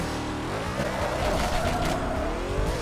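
Engine drone of a car in the Killer Bean video game rising and bending in pitch through a turn with a brief skidding squeal, steady and up close for a few seconds with no talk.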